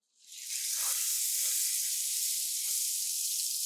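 Taco meat sizzles loudly and steadily in hot high-temperature oil as it is pressed flat in the pan, a continuous bright hiss with no talking.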